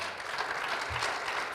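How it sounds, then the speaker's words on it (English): Audience applause at a youth capital market forum in Kigali, a steady, dense wash of clapping filling the hall throughout the short stretch. "I just want us to clap for the organizers of this"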